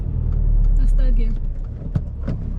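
A car engine runs in third gear during a driving lesson near Harrow, a low steady rumble inside the cabin with people talking over it.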